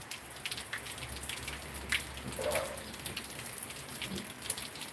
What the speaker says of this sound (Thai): ดูสภาพ น้ำฝนแล้วนะครับว่า มันยังตกเรื่อยๆครับ ตกต่อเนื่องเรื่อยๆครับ